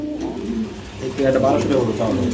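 Deshi Bombai pigeons coo steadily in soft, low, rolling calls at close range, with someone talking over them at a market.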